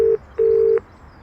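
Telephone dialing in the Broken Sword 4 video game: two steady electronic tones, a short beep followed by a longer one, clean and close with no voices.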